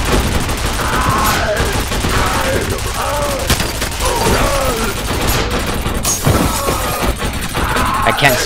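Sustained turret machine-gun fire in the shooter game F.E.A.R.: Perseus Mandate, rapid dense bursts with crashing impacts, loud and continuous throughout.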